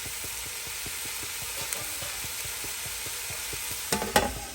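Masala and lamb shank cooking in a pot with a steady, rhythmic stirring scrape repeating about every fifth of a second over a constant sizzle, with a few louder knocks near the end.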